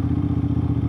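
Close, loud idle from a two-cylinder Aprilia RS660 sport bike running a newly fitted exhaust: a low, even, pulsing rumble that holds steady throughout, with no voices.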